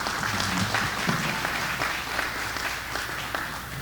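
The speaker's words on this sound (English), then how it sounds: "Let's give her a round of applause to be here first." Audience applause fills a community meeting hall as the next presenter is welcomed, a steady wash of many hands clapping at moderate level throughout with no pauses.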